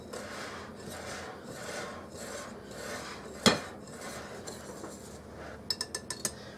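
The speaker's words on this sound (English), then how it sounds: "So I'm going to put that in there and give that a little bit of a whisk" Whisk scraping through cocoa powder and dry cake ingredients in a bowl, a soft repeated rasping swish, one sharp knock midway, and a few light metallic clinks at the end.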